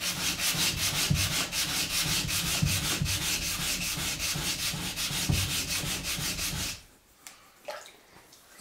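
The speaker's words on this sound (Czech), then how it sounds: "Ten papír je už hladký, klouže to, posunu si to tak, abych brousil" Sandpaper is rubbed by hand along a katana blade in fast, rhythmic back-and-forth strokes, close and steady for about seven seconds before stopping, followed by a few faint scrapes and knocks.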